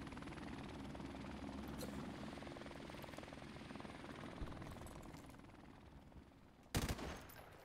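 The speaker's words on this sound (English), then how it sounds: "Oh my god, I fucking hate this helicopter." A video game helicopter drones steadily overhead while bursts of gunfire crackle through the fight, ending in a sharp loud blast near the close.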